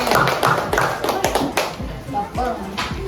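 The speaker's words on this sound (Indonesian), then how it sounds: "Ayo beri aplaus kepada kelompok merah ya." A classroom of schoolchildren claps for a presenting group, a brief ragged round of applause with cheering voices and an adult talking over it.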